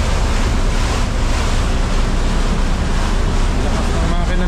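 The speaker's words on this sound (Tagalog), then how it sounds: "Lakas ng makina nito mga kabisig." A motorized outrigger boat with a new exhaust pipe runs steadily at sea, its engine drone buried under loud, constant wind rush and water noise.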